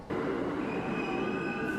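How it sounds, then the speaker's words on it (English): A subway train in a station, its wheels squealing with a steady metallic screech over a dense rumble, loud and close for under two seconds with no voices. "On the subway, the AI helps her find her train."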